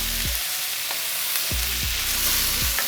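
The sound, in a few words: stirring fried rice in a frying pan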